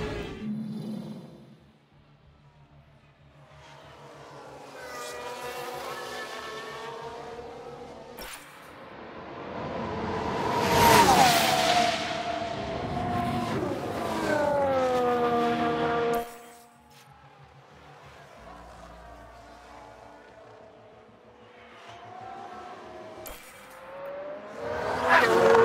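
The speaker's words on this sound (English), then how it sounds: "Sounds like we've had a spin." Race car in F1 Manager 2022 spinning out, engine notes rising and falling with squealing tires through a sustained, swelling skid that peaks loudly midway before easing, a brief calmer stretch, then another surge at the end.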